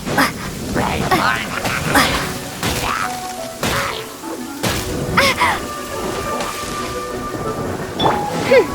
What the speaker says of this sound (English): Hark! 'Tis thundering retribution.